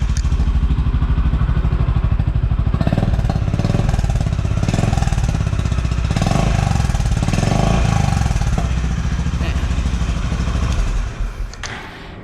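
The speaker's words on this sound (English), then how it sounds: "that is how the Highness CB350 idles." A Honda H'ness CB350 motorcycle idles close by, a loud, steady low thumping engine beat running evenly for about eleven seconds before it drops away at the end.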